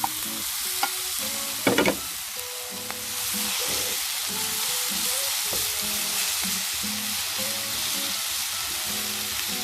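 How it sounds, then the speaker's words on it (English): Cauliflower and potato pieces drop into a frying pan of partly cooked onion and tomato, then a loud, steady sizzle continues as the mixture is stirred, with a few clattering knocks early on from the added vegetables. "now I'm going to add the cauliflower and potato into the pan."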